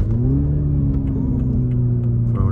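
A 2023 Toyota GR Supra with a 2.0-liter turbocharged four-cylinder and manual shifting pulls hard under acceleration, its loud, close engine drone rising steadily in pitch and holding strong throughout without any talk.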